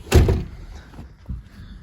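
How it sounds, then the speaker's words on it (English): A seat in a 2004 Toyota Sienna minivan camper conversion folds down with a loud, close thump, followed a second later by a softer knock as it settles, with no talking. "So this chair folds down,"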